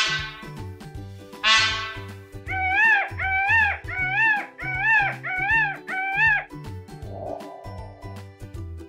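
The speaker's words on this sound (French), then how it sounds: "C'est le paon!" A series of loud, wailing peacock calls, two rising cries then six rhythmic honking calls in quick succession, over a steady low background hum.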